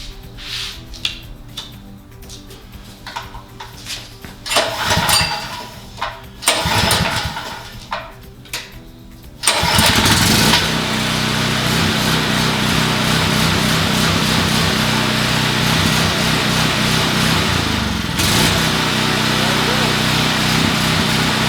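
A Craftsman 3500/4350 watt gas generator is pulled several times with rattling cranks, then catches and roars into a loud, steady close-up run that continues to the end, with someone talking in the background.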